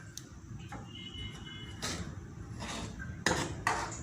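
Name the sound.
stirring rice flour in a pan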